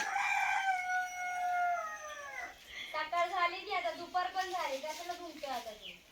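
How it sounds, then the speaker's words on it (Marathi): A rooster crows loudly and close at hand, one long drawn-out call followed by a second wavering, warbling crow, with no talk over it. "कोंबडा आरवतो बाग देतो कोंबडा"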